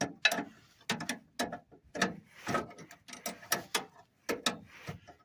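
A bolt on a VW bus drag link steering arm being tightened with a wrench, producing uneven bursts of close ratcheting clicks and metallic strokes separated by short pauses.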